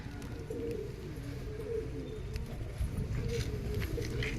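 Roller pigeons kept on a rooftop loft coo in low, throaty, repeated phrases, fairly close, over a soft background hum.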